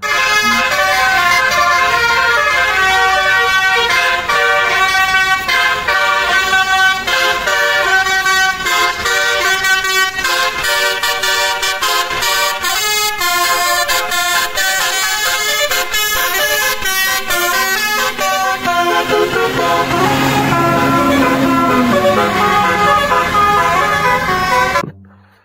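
A loud musical multi-tone horn on the Ashraf Tuan Muda bus plays a long, continuous melodic tune close by, with shifting notes and a falling tone near the end before it cuts off.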